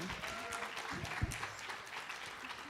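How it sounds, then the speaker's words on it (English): Applause fills a hall after two presenters at an education event on teaching Black studies, a soft, distant, continuous patter of many hands with a brief thump partway through. "Give a round of applause for Elisa and Tiffany"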